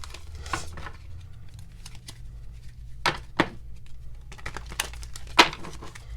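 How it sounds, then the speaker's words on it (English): A deck of tarot or playing cards is shuffled by hand in a quiet room, giving faint scattered riffles and sharp papery snaps and flicks at irregular intervals. "I'm just shuffling the deck too."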